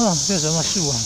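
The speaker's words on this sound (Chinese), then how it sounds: "这个声音叫做蝉的叫声，" Cicadas sing near a school wall as a steady, high, hissing drone running beneath a person talking close by.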